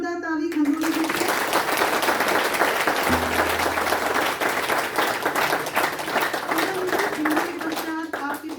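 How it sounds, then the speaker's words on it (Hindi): An audience at the inauguration of free coaching classes at NIEPVD claps loudly and steadily for over eight seconds, while a voice speaks over the applause. "तो एक बार जोरदार ताली खंडूरी जी से।"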